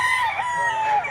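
A gamefowl rooster crows once up close at a farm, a loud, bright, drawn-out cock-a-doodle-doo with rising and falling pitch, no talking.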